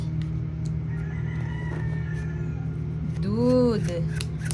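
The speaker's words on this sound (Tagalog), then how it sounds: "Pasensya na po pala sa mga ingay na naririnig nyo sa paligid. Masyado masaya yung manok ng kapitbahay namin" A neighbour's rooster crows once near the end, a single rising-and-falling call from a short distance that cuts through a steady background hum.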